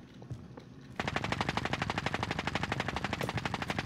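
Automatic gunfire in the Warzone video game: after a quieter lead-in, a long rapid burst of loud machine-gun shots in a steady, fast rhythm, close and with no talking.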